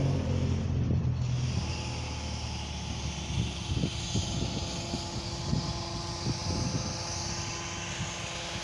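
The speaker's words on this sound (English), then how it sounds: "I do apologise for the noise. It's a busy road just here." Traffic on a busy road in Barlborough village rumbles steadily, with passing vehicles and a constant wash of wind-like roar over low engine noise.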